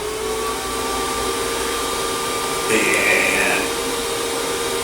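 A variable-speed end mill spindle, rated to 20,000 RPM and used for cutting gaskets, runs with a steady high-pitched motor whine and a loud airy hiss, with a brief voice over it.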